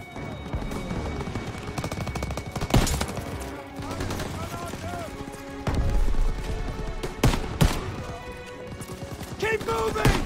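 Machine gun fire in Call of Duty WW2 during the Normandy invasion battle, bursts and single heavy shots mixed with booms, shouted voices and battle noise throughout.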